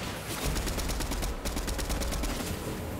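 Rapid gunfire in a video game firefight, dense repeated shots cracking continuously for about three seconds with no pause, loud and close.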